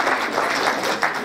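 Brief burst of dense applause from a crowd at a tribute event for poets, steady and loud throughout with a slight swell near the end.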